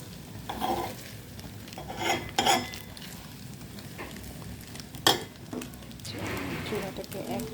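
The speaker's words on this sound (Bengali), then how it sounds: "আমি আরেকটু নাড়াচাড়া করে নেব" Ramen noodles being stirred in a pot for children, with soft scraping and sloshing strokes in bursts, a faint sizzle beneath, close and moderately quiet, with a voice talking at points.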